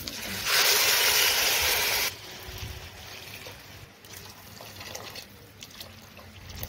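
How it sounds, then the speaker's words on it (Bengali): Hot water warmed with ghee pours into a pot of khichdi made with moong dal, tulaipanji rice and mixed vegetables, a loud rushing splash lasting under two seconds, followed by quieter kitchen clatter. "এবার আমি জলটা দিয়ে দেব।"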